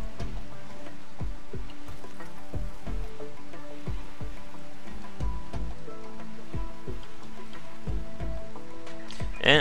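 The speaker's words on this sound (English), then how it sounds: "Again, it's raining." Rain in the video game Rimworld, a soft, steady patter of drops with scattered sharper taps under a low ambient game background, with no voices.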